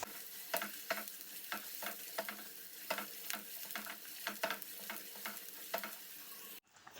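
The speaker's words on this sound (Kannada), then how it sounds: "ಈರುಳ್ಳಿ ಮಾತ್ರ ಫ್ರೆಂಡ್ಸ್ ಗೋಲ್ಡನ್ ಬ್ರೌನ್ ಆಗುವವರೆಗೂ ಫ್ರೈ ಮಾಡ್ಕೊಳ್ಬೇಕು" Onions fry until golden brown in a pan for spicy Indian-style chicken pasta, a close, steady sizzle broken by repeated spatula stirring strokes in an uneven rhythm, cutting off abruptly just before the end.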